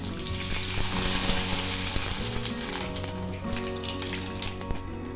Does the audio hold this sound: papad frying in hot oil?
yes